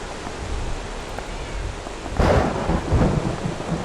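Steady, close rain hisses in modded Minecraft, with a low rumble of thunder building about halfway through and rolling on to the end.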